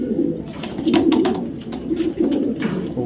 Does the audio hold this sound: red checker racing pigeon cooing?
yes